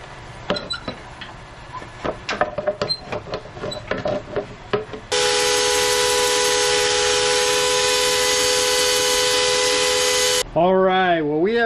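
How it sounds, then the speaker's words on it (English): A turned wooden vase is sanded on the lathe, starting with scattered scratchy rubbing and taps, then a loud steady whine with a humming drone that runs for several seconds before a brief warbling tone. "Now that we have that scraped, we'll go back to sanding and go from there."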